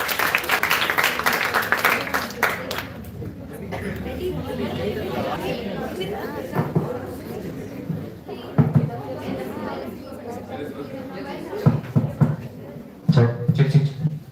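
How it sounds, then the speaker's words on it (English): An audience at a college stage event fills the hall with loud applause and cheering for a few seconds, then the noise drops to a low crowd murmur and chatter, with bursts of voices and movement near the end. "Give a big cheer."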